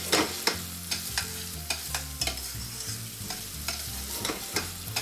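Vegetable sofrito cooking in oil sizzles quietly and steadily while a spoon scrapes and stirs it in a regular series of clicks and taps, with no voices.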